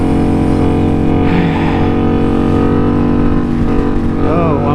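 FZ07 motorcycle engine held at steady high revs through a long wheelie, a loud continuous drone with dense harmonics and wind rush, close and unbroken for the whole stretch.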